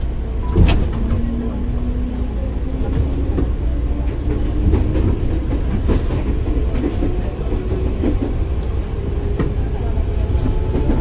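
KRL commuter train travelling from Depok toward Manggarai, heard from inside: a steady loud rumble of wheels and motors with faint clacks and a low drifting whine throughout, no talk.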